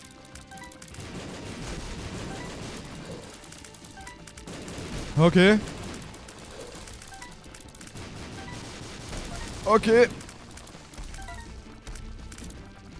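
Enemies in The Binding of Isaac: Afterbirth+ explode in two loud, sharp bursts a few seconds apart over busy game sounds, while someone says a word or two quietly.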